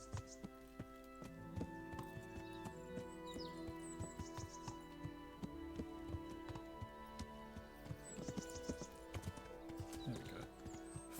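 A horse walks in the video game Kingdom Come: Deliverance, its hooves clip-clopping in an even, unhurried rhythm close by, with birds chirping faintly in the background.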